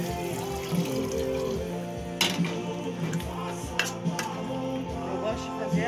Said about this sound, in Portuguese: Agora é só colocar água.